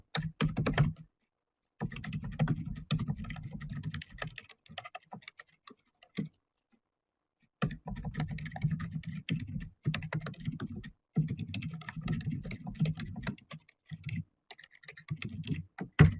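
Fingers type steadily on a computer keyboard, the keys clicking close and dry in bursts separated by short silent pauses.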